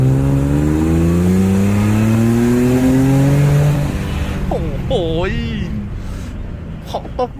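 A Porsche Panamera fitted with a Euro Arts aftermarket exhaust revs hard and loud, the engine pitch climbing steadily for about four seconds before cutting off. Someone speaks briefly as the revs die away.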